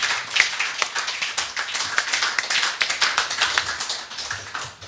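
A church congregation claps in praise of the Lord with quick, rhythmic clapping of many hands at close range, loud and steady for several seconds and easing slightly toward the end, with no talking over it.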